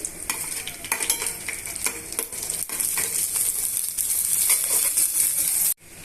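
Sliced ivy gourd and chopped chillies are stir-fried in a pan with tempered seeds: a steady sizzle with repeated spatula scrapes and clinks against the metal, close and continuous, ending in a sudden cut.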